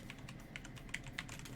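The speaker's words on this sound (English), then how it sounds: "I'm typing to Too Good For You right now." Computer keyboard typing during a Diablo Immortal PvP match: quick, light key clicks in an uneven rhythm, with a few sharper taps, heard close but quiet over a low background hum.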